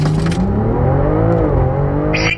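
A Stage 3 tuned BMW M340i G21 wagon making around 592 hp pulls hard from a standstill to 100 km/h, its engine note climbing steadily through the revs, loud and close, before easing off at the end.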